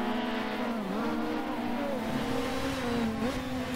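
Race car in a racing game at Mount Panorama, a loud continuous engine drone whose pitch dips as the driver lifts off and brakes, then steadies, close and unbroken.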